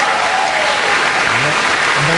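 Loud, dense audience applause at a political rally, a continuous roar of clapping filling the short stretch.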